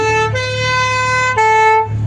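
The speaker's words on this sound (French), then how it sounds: "Vladimir Ourcel et Antoine Pellissier au pimpon, s'il vous plaît, avec cette 404" A loud, sustained two-tone horn from the Paris firefighters' Peugeot 404, blaring close by with a clear pitch change partway through, alone without speech.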